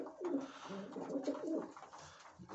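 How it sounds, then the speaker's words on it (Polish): Pigeons cooing in a frozen winter pigeon loft, several soft, throaty coos overlapping close by in a quiet indoor space, with no talking. "Ale gołębie zdrowe."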